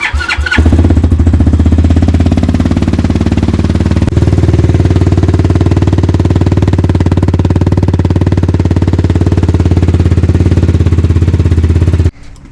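A KAYO TD 110 EFI pit bike engine cranks and fires, then runs at a loud, steady, buzzing idle up close for about twelve seconds before shutting off abruptly.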